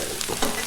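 Bacon frying on a Blackstone griddle with a little butter and oil, a steady close sizzle and crackle running through a short moment with a couple of brief louder pops.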